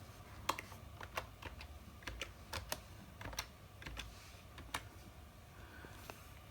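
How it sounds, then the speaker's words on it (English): Fingers type on a computer keyboard in quick irregular bursts of crisp clicks, close and fairly quiet, with short pauses between runs of keystrokes. "I'm going to type Broncos."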